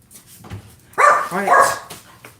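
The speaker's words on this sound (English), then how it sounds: "Dog's going crazy." A dog barks and whimpers indoors in a few loud, close bursts, with quieter sounds before and after.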